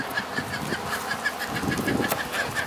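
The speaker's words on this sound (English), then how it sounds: "I have this rose comb hen over here." Rose comb hen clucking softly in a rhythmic series of short, close calls over quiet background noise.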